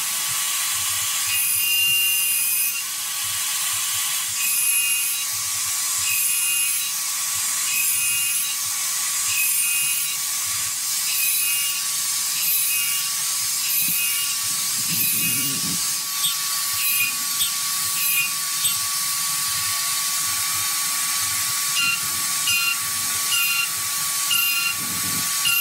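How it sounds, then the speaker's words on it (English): A CNC machine cuts metal while coolant is sprayed, giving a steady bright hiss with a faint high tone and rhythmic mechanical ticking, loud and continuous throughout. "There is the coolant being sprayed"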